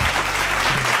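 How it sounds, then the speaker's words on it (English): A burst of canned applause plays on a comedy talk show, a dense, loud wash of clapping that fills the whole second with no speech over it. "You hit the applause too?"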